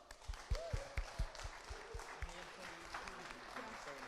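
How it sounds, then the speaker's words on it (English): A crowd applauds the sound crew at the Liverpool International Song Contest, scattered claps and cheers building then thinning, mixed with voices and some tonal music in the background, fairly distant. "Can you give them a huge round of applause?"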